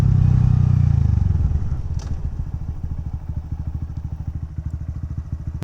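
Honda Grom motorcycle slowing to a stop beside the road, the engine note dropping from a steady throttle into a close, loud, chugging idle with a rapid even pulse.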